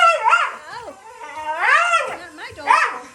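A pitbull howls and yowls in drawn-out, whining, rising cries, loud and close, in three long bursts.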